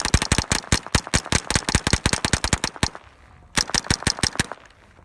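Rapid strings of .22 LR gunshots, dozens of sharp cracks fired in quick succession, a brief pause, then another fast burst, loud and close outdoors with no talking.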